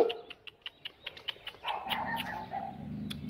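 A dog barks near a house in a run of sharp, evenly spaced yaps, fairly distant and faint, followed by a lower rumble of background noise.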